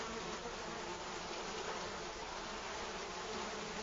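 A dense swarm of brine flies over the barren shore of Mono Lake, a steady, continuous buzzing drone that fills the air, close and unbroken with no pauses or voices.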